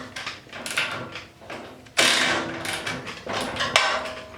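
Bolts on a 1972 C10 trailing arm crossmember are tightened with hand tools, giving a short run of metallic clicks, ratcheting and clanks, with one sharper louder knock midway.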